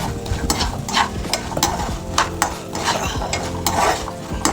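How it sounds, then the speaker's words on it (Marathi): Walnuts roast in ghee for healthy laddu, stirred in a pan with a busy run of spoon scrapes and clinks against metal over a soft sizzle, close and fairly loud throughout. "मस्तपैकी ते पण भाजून घेऊया तुपामध्ये"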